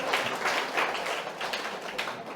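A church congregation applauds. The clapping is close and continuous, a brisk patter of many hands lasting a couple of seconds.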